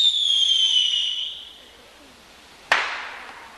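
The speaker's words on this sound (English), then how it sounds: "I believe those are bottle rockets" Bottle rocket launched at an outdoor July 4th picnic: a loud fading whistle for about a second and a half, then a sharp crack as it bursts, with a brief tail.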